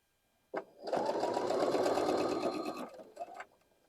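A sewing machine stitches a seam on a quilt block, with a brief buzz, a pause, then about two seconds of steady rapid whirring and a short final burst before stopping, close and clear.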